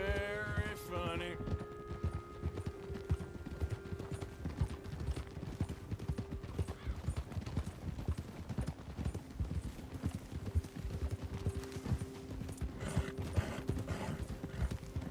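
Horse hooves clip-clop steadily on the ground in the video game Red Dead Redemption 2, a dense rhythmic trot heard close up, with a brief whinny near the start and faint harness jingle throughout.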